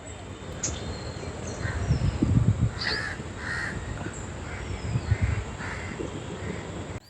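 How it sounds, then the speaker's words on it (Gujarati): Crows caw several times in short, separate calls around a lake garden, over a low steady background. A voice is faintly present underneath. "અત્યારે અહીંયા એટલી શાંતિ છે ને કે ખાલી પક્ષીઓનો કલરવ જ સંભળાય છે।"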